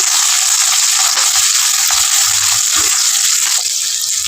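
Cumin, mustard seeds and onion fry in a pan with a loud, close, steady sizzle and occasional stirring scrapes and pops.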